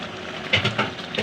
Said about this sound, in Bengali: এবার মাংসটাকে ভালো করে নেড়ে ছেড়ে দেবো